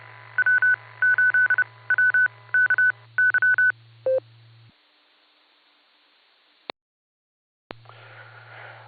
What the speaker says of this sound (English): Little station identification there.